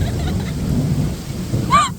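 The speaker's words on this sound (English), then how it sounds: "There's a lot of lightning and the heavy rain" Heavy rain pours steadily over an outdoor market stall with deep rumbling thunder rolling underneath, loud and close, and a brief high whistle-like sound near the end.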